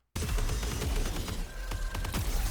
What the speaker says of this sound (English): You shoot bursts of like saturated glowing bullets.